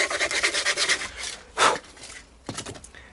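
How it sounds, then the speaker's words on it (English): Rough, rasping strokes of sanding on worn leather work boots rub back and forth in a quick rhythm, with a louder scrape midway and a few more strokes after a pause. "what I'm doing is I'm sanding them down a little bit"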